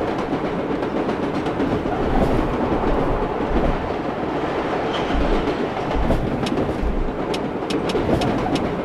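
A New York subway train in the World of Subways game runs along the track with a steady rumbling drive, rhythmic wheel clatter and occasional metallic clicks, loud and continuous.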